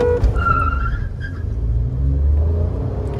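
A Wagon R CNG and a Swift CNG launch in a drag race, engines revving hard with a short tire chirp amid steady road and wind roar, close and loud throughout.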